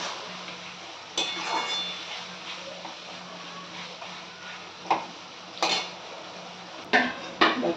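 Marinated mutton with turmeric and mustard oil being stirred with ground spice paste in a pan, with intermittent metal spoon clinks and scrapes over a low steady cooking hiss.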